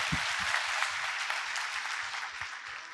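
Steady applause from an audience at a Q&A panel session, dense and continuous clapping throughout at a moderate distance.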